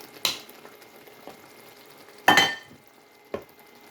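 Agushi stew cooking in a pot, with a few sharp stirring and sizzling bursts from a spatula, one loud scrape near the middle and a smaller one at the end, over a faint steady simmer.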